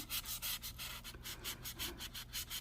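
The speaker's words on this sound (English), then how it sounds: "I can push in there with a little pressure and get right up to that piece of chrome trim right where I'm sanding at" Hand sanding rubs back and forth on a 1969 Dodge Charger R/T body near chrome trim, quick rhythmic strokes close to the microphone, about a dozen in a steady pattern.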